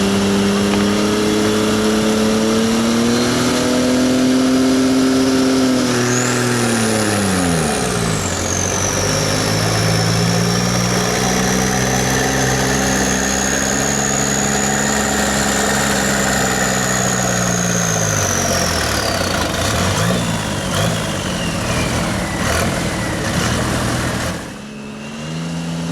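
A loud garden pulling tractor engine at a county fair tractor pull revs and idles continuously, its pitch swooping down and climbing back up as the throttle is worked, with a whining tone on top.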